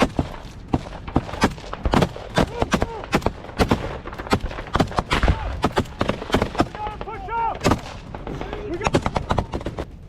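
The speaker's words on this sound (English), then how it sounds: "The tanks' heavy bombardment significantly scatters the Russian positions." Tank shelling and gunfire during a combat ambush on a Russian armored column: a dense run of sharp, loud blasts and cracking shots in irregular bursts, some close and some echoing, with shouted voices mixed in between the impacts.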